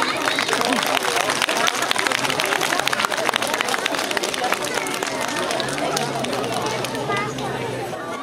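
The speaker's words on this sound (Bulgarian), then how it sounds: "Аплодисменти!" Parents applaud at a kindergarten pumpkin festival, a dense, steady wash of clapping from an indoor crowd that runs the whole time, with a murmur of voices underneath.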